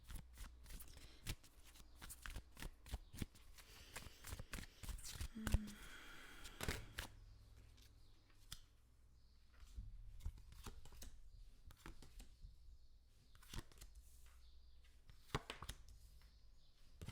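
Tarot cards are shuffled up close in quick riffling bursts and soft flicks, fairly quiet, with occasional faint handling noises and pauses between flurries.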